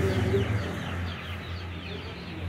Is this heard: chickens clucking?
yes